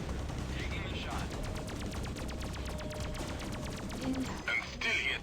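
Ship weapons fire in the space game Freelancer as a dense rapid stream of repeated shots over a steady engine-like roar, with brief bright electronic tones near the end.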